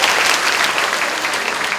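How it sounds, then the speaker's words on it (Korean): Loud, dense applause from a crowd at a Kumho Tire recruitment briefing session, steady clapping from many hands filling the hall throughout. "박수 좀 부탁드릴게요."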